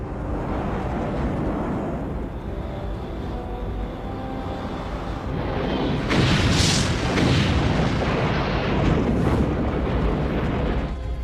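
An asteroid impact explosion: a deep, sustained rumbling roar that swells and grows louder halfway through, heavy and booming, with no voices.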